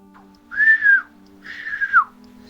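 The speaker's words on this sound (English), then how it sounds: "The unkempt furbolg whistles long and loud 3 times." Two long, loud rising-and-falling human whistles, each about half a second, clear and close with a pause between them.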